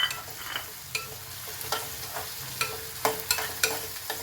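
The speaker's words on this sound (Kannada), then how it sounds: "ಈ ಎಲ್ಲ ವೆಜಿಟೇಬಲ್ಸ್ನ ಸ್ವಲ್ಪ ಫ್ರೈ ಮಾಡಬೇಕು" Vegetables and green peas for upma fry in a pan, with a steady soft sizzle under repeated sharp scrapes and taps of a spoon, close and alone.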